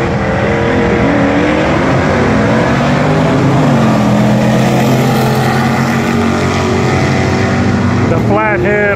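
A vintage flathead roadster drag racing down the strip at the Little River vintage drags, its engine roaring loud and steady as it pulls hard, with a voice on the announcer system over it near the end.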